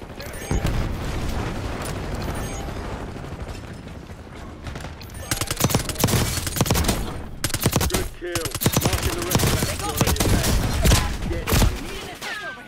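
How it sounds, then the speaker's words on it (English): Rapid submachine gun bursts and single shots crackle through a Call of Duty match on the Area 99 map. The firing comes loud and close, with dense fusillades after a quieter opening, and speech is heard faintly under it. "I legit can't tell where shots are coming from"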